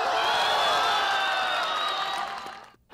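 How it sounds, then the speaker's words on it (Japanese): A crowd of police officers cheers and claps at a police arrest-technique competition in a sustained wash of noise that fades out near the end. "同僚らから拍手と声援が送られていました。"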